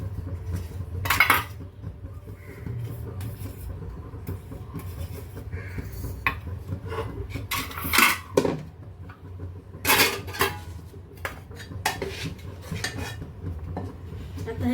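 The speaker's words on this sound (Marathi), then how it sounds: "आता मी इडल्या सगळ्या काढून घेते आता पुन्हा या इडलीच्या भांड्यांना आपण तेल लावणार आहे" Metal idli steamer plates clatter and clink as the cooked idlis are lifted off and the plates are oiled again, with sharp utensil knocks and scrapes scattered through the clip and no talk.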